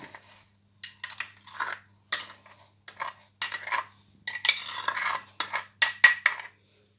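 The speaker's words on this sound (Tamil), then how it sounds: "சுகர் சேர்த்து இதையும் அடிச்சுக்கணும்" Beaten eggs and sugar whisked in a bowl, giving bursts of quick metallic clinking and scraping separated by short pauses, close and alone.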